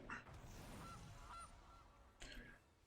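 Goose honking from the Gilded Goose card in the MTG Arena digital card game, a couple of short nasal honks near the start with another burst near the end, set against a low steady background hum.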